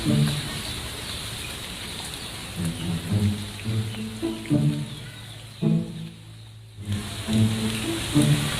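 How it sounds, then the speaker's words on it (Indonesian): Light drizzling rain outdoors, a soft constant patter and hiss with a low rhythmic thumping underneath and a brief lull near the end, at moderate loudness with no talk. "Mana cuaca gerimis begini, hujan baik."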